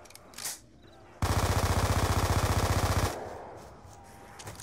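An MP5 submachine gun in Black Ops 2 fires one long, loud, close full-auto burst of rapid even shots lasting about two seconds, followed by quieter game ambience.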